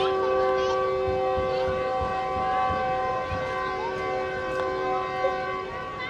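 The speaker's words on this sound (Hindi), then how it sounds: "तो सिर्फ 2 मिनट रुकने के बाद ट्रेन का इनिशियल डिपार्टिंग विसल हो गया है" A train's departing whistle sounds at a busy railway junction in Karachi, a long steady horn tone held for several seconds over the rumble of the stationary train, loud and close.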